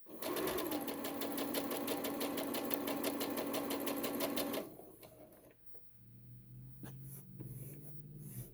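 A sewing machine runs steadily, stitching a seam on pajama shorts for about four and a half seconds, then stops, leaving soft handling noises and faint clicks.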